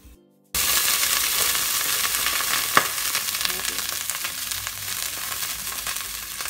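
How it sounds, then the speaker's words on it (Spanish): Carrot sautéing in a pan for a budget vegetable spaghetti dish, a steady close sizzle and frying hiss starting after a brief silence, with a single sharp clink partway through and no talk. "Voy a agregar mi zanahoria. La voy a dejar que se sofría un poquito"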